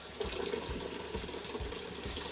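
Pink antifreeze pours steadily out of a plumbing drain while a system is winterized, a soft, continuous rushing of liquid with faint low gurgles underneath.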